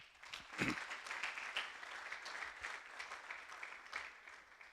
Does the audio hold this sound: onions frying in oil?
no